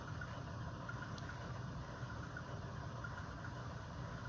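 A steady mechanical hum from the compressor sound of a DCC-equipped model GE C44-9W locomotive, continuous and moderately quiet, with no talking.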